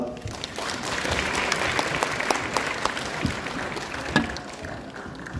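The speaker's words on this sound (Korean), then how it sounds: "오늘 강연해주신 최강림 총감독님께 다시 한번 감사의 박수 부탁드립니다" An audience claps steadily after a lecture at Bucheon City Hall, a dense, fairly loud wash of applause from a crowd that carries on without pause.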